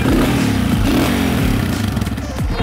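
A dirt bike engine, loud and close, fires and runs with rough, uneven revving and some mechanical clatter.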